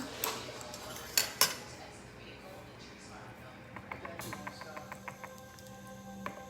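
A utensil knocks and scrapes against a bowl while batter is mixed, with a few sharp clinks early and then a quick run of light tapping strokes, fairly quiet, with faint talking in the background.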